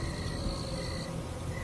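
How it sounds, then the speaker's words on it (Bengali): Faint, steady high-pitched insect trilling, like crickets, continues over a low background hiss. "বাইরে গিয়ে দেখে ঝিঝি পোকার ডাক ভেসে আসছে।"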